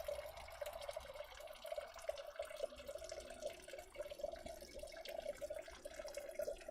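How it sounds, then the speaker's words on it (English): Water trickling and dripping while sculpting with soft WED clay, a steady light running-water sound with small irregular splashes and taps, close and fairly quiet throughout with no talk. "A little bit of water."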